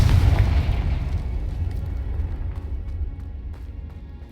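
A Confringo spell blast in Hogwarts Legacy: a heavy, booming explosion that hits loudly at the start, then rumbles and slowly decays, with faint crackles trailing through the tail.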